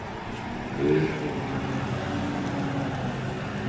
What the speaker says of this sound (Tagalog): Pasensya na po sa ingay ng mga sasakyan.